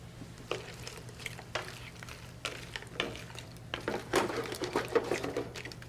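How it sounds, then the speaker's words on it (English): Spoon stirring chopped tomato, skins and seeds included, into white wine in a pot, soft irregular scrapes and clinks over a quiet low hum. "Add our chopped tomato, skin and seeds and all."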